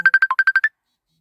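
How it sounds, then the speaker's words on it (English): An incoming phone call rings out as a loud, close electronic ringtone of eight quick, evenly spaced beeps, one slightly lower in pitch, then stops abruptly into silence. "Typically, I got a phone call."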